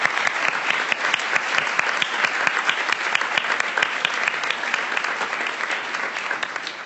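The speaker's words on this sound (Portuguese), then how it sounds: "uma salva de palmas para vocês que estão aqui" An audience at a Brazilian political youth forum applauds loudly and steadily, with dense clapping filling the room throughout and no voices rising above it.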